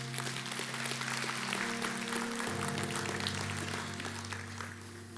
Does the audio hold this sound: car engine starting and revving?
no